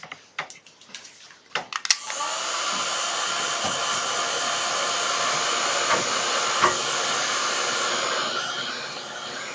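A hair dryer blows on wet paint on a painting, starting after a few clicks and handling noises and then running as a steady, close, continuous whir to the end.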